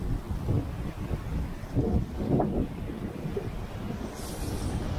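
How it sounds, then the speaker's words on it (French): Gusty wind of about 12 knots buffets the microphone aboard a sailboat on the open Atlantic, with a low rumbling roar that rises and falls, no voices. "On a 12 nœuds de vent."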